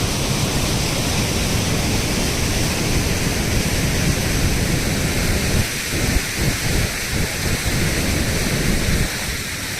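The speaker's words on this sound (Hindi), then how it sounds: "ये ब्रिज जहाँ से वाटरफॉल हो रहा है" Water released from canal gates near Loch Ness in the Scottish Highlands crashes down as a waterfall beneath a bridge, a loud, constant roaring wash that fills the whole scene without speech.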